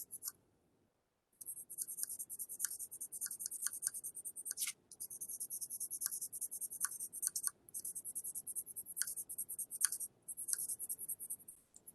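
Charcoal scratches across paper with harder pressure, laying down a fifth layer of shading in quick, bright strokes and short pauses, close and faint against a quiet room.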